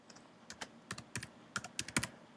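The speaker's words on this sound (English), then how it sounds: "I'm gonna type them this time" Code typed on a computer keyboard: quiet, close, irregular key clicks in quick clusters, with no voice.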